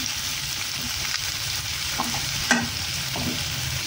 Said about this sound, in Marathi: फ्राय करून घ्यायचं